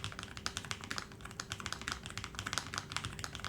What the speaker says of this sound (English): What is the keyboard on your desk? It looks like a cheap stock something. Well, it's the Lofree Edge